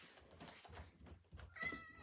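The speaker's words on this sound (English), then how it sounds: "Oh, hey, kitty. Kitty." A house cat gives a faint, brief meow indoors after soft low rustling, the cry rising clearly near the end.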